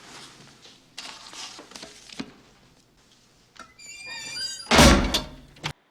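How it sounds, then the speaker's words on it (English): A heavy safe door swings shut in a prison warden's office with a solid, loud thunk after scattered softer knocks and movements, no voices present. "when Andy closes the warden's safe"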